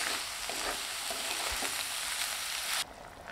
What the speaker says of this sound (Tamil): பாவக்காய் எண்ணெயிலேயே 3/4 பதத்துக்கு நல்லா வதங்கி வரணுங்க.